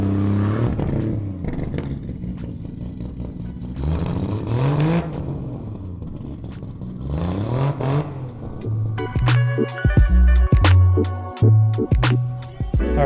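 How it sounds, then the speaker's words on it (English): A loud 2000 Nissan R34 GTR Skyline engine revs hard several times, rising and falling close by, then settles into a rough, clattering idle with sharp pops. "This car is loud."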